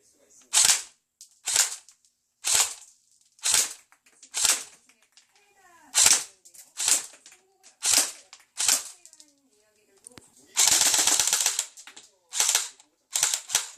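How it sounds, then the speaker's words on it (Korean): Sharp, loud K1A rifle shots fired one at a time in an evenly spaced string, then a rapid automatic burst near the end followed by a few more single shots, with no talking. "자 이제 사격 영상 보시고 올까요?"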